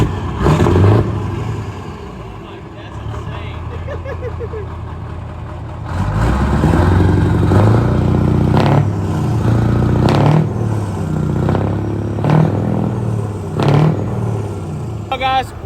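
A Scania truck engine idling with a clattering diesel rumble, then surging into louder revving with repeated rhythmic throttle pulses, while people talk over it.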